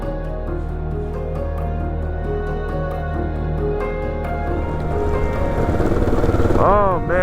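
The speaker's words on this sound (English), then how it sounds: "it is like a downpour of rain right now" Heavy rain pours down in a temperate rainforest in northern Oregon during a storm on a motorcycle camping trip, a dense steady hiss over a low motorcycle engine hum that swells slightly louder toward the end.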